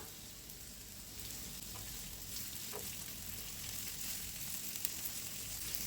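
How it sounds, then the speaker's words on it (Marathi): Fish fries in a pan Malvani style, giving a steady, continuous sizzle and crackle that stays even for several seconds, close and moderately quiet, with no voices. "तर आपल्या इकडे फिश हे फ्राय होतं आहे"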